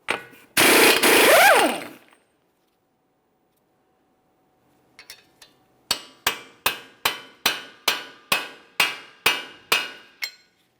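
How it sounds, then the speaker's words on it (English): Hammer and punch strike the axle of a 2014-2018 Mazda 3 to break it free from the wheel bearing hub: a few scattered taps, then a steady run of about a dozen sharp, loud metallic blows, after an earlier burst of noise. "we'll use a hammer and punch directly in the center to break the axle free from the wheel bearing hub"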